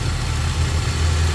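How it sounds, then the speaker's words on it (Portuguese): A low, steady engine idle from a 2011 Chevrolet S10 pickup with a 2.4 flex-fuel engine rumbles continuously, fairly close, with no other sounds. "Olha o barulho do motor da nave"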